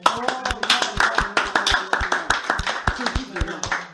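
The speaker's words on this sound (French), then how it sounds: "Applaudissons pour le Seigneur." Steady rhythmic clapping from a church congregation, beat after beat, mixed with voices singing or calling out.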